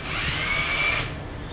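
A combi drill set to its lowest torque setting whirs with a high, steady motor whine for about a second, then cuts off.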